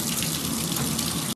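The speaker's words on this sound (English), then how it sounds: "I'm starting the shower" A shower runs in a steady, loud, close hiss of falling water that cuts off abruptly at the end, with no talk.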